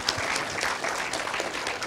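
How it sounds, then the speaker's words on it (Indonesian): Audience applause at a climate crisis discussion session, a steady dense wash of clapping that holds evenly through the short stretch, with no voices on top. "Tepuk tangan buat para pembicara di sini sekali lagi."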